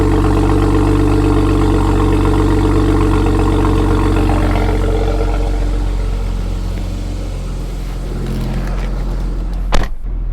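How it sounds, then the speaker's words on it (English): BMW 335 with catless downpipes idling, a loud, steady deep exhaust drone with a rich low rumble that holds throughout, easing slightly near the end before a brief sharp knock. "This one I will get an exhaust shot because it does actually sound pretty good."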